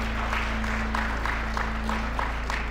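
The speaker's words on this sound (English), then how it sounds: "Can we clap hands for the Ministry of Education," An audience at a primary school library project event claps hands for the Ministry of Education, steady moderate applause over a constant low hum, with no voices over it.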